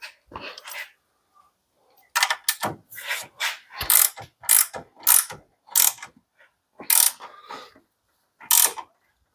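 A ratcheting torque wrench tightens a rear sub-frame bolt on a 2007–2017 Jeep Patriot or Compass, giving a series of sharp, close metallic ratchet bursts in uneven strokes separated by short pauses, with no talking.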